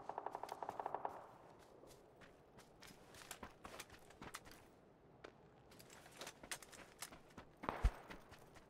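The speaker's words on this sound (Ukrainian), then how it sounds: "Де вони оце зі своїх есерок ото стріляють?" Sniper rifle gunshots in the PUBG video game on the Erangel map, faint sharp cracks scattered through the clip, with a louder report near the end, over low game ambience.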